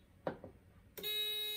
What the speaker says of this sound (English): Once above 32, it will trigger the buzzer 2 times.